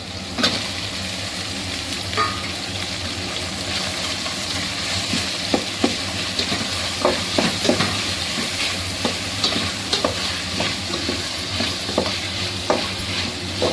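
Tomatoes and ginger garlic paste fry in a pan for a Chintamani chicken dish, giving a steady close sizzle. A spoon scrapes and stirs at irregular moments throughout.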